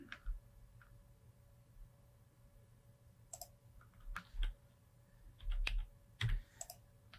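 Keys on a computer keyboard clack in short, scattered bursts, a few distinct presses with pauses between, close and fairly quiet over a faint steady hum.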